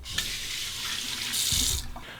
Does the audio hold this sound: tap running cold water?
yes